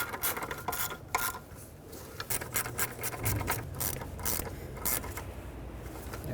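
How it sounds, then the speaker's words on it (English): A ratchet clicks and rasps, tightening two 10mm bolts on an EGR valve onto the intake of a 1998–2011 Ford Ranger 4.0L V6, with repeated close, uneven bursts of clicking and scraping and no talk. "Now let's tighten up this EGR valve onto the intake"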